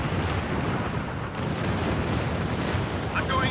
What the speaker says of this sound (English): Keep up the weapon fire.